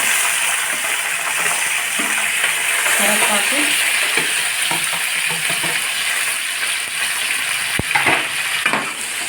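Onions, green chillies and tomatoes fry for an Andhra fish curry, a loud continuous sizzle close up with scraping stirring noises and a sharp clack partway through.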